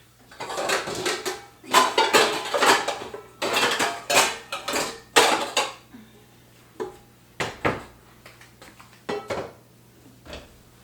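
Pots, pans and metal cutlery clatter and clank in a home kitchen as cookware is handled to boil water, a dense run of loud bursts followed by sparser knocks with pauses between.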